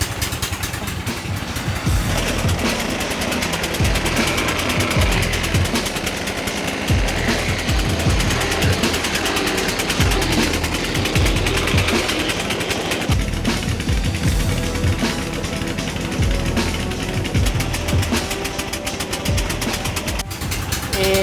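A sago flour milling machine at a village sago mill runs continuously, a loud, steady mechanical drone with rapid rattling and grinding that holds without pause throughout, with no voices.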